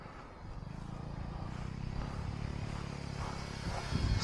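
Tubercle-wing biomimicry RC plane coming in to land on low throttle, its steady low motor drone holding evenly throughout and swelling slightly near the end.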